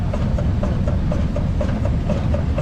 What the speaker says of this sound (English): we have a Rumley engine up next. It is also single cylinder.